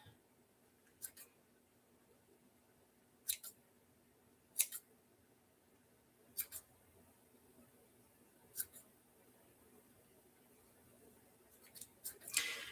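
Scissors snip through chunky yarn for a spring lamb wreath, with crisp, close cuts coming one or two at a time at irregular intervals over a quiet background, then a quicker cluster near the end.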